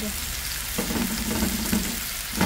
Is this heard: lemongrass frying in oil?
yes